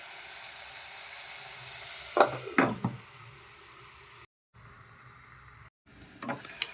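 Tomatoes cook on a low flame for black pepper rasam, a steady soft sizzle under a lid, broken by a few sharp clanks of a lid or utensil and brief dropouts.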